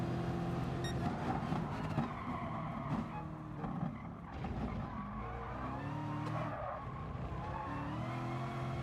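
Race car in Gran Turismo Sport at Le Mans braking hard into a corner, engine downshifting with brief tire skid and squeal, loud and continuous across the whole stretch with no talking.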